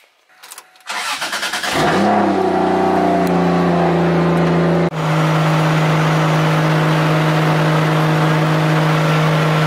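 A Nissan S14 fitted with a 1JZ engine cranks briefly and fires up, then settles into a loud, steady idle and pulls away, the engine note changing partway through, recorded close with no talking.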